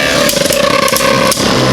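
Launched Beyblade spinning tops whir and grind against each other in a plastic stadium, a loud, dense buzzing rattle with a few sharp clashes as they collide.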